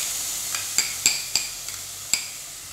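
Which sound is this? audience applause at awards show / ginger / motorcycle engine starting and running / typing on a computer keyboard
ginger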